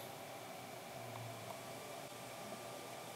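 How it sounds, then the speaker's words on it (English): A steady, even blowing hiss of a hair dryer pointed upward, running continuously at a moderate, fairly quiet level, with no talking. "point the hairdryer directly upwards, then when you are ready, power it on."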